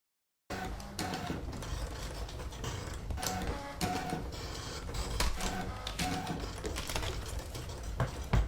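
A ScanNCut cutting machine cuts pattern paper, whirring and clattering steadily up close as its motor drives the blade carriage back and forth, with sharp ticks and shifts in pitch throughout.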